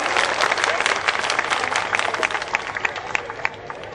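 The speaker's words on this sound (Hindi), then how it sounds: "जोरदार तालियां बजाओ, जोरदार जोरदार और जोरदार।" Crowd at a Halla Bol protest at Jantar Mantar clapping loudly and steadily, a dense patter of many hands that tapers slightly toward the end.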